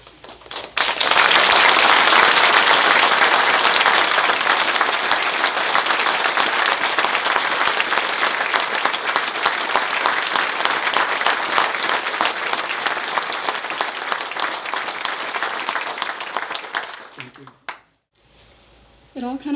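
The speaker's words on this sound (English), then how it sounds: "just give me an applause for Michael if you would, please." A crowd at a memorial service gives a long, loud round of applause, dense and steady for about seventeen seconds before it cuts off abruptly.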